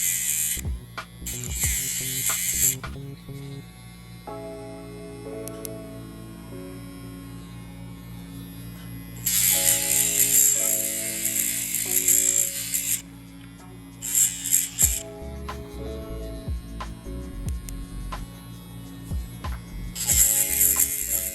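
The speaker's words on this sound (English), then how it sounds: "the difference between this nail grinder and the professional nail grinder" An electric dog nail grinder buzzes steadily with a low hum, with bursts of higher grinding as it touches a dog's nails at close range. No one speaks.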